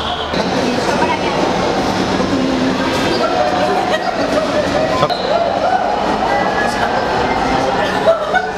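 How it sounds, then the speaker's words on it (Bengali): A Dhaka Metro Rail train pulls into a station platform with a loud, steady rolling rumble and occasional metallic clinks, as people talk nearby. "এখন কিছুক্ষণের মধ্যে আমাদের ট্রেনটি চলে আসবে।"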